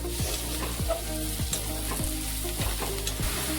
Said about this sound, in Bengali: পোস্তটা দিয়ে খুব ভালোভাবে আর একটু ভেজে নেব